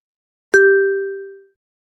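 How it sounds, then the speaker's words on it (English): A single bright bell ding rings out alone, loud and close, with a clean tone that decays over about a second into silence. "When you hear this bell sound"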